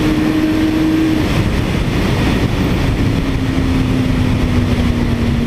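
A 2019 Yamaha R6 sport motorcycle with an Akrapovic exhaust holds a steady high-rev engine drone on a race track, loud and continuous with heavy wind rush and no speech.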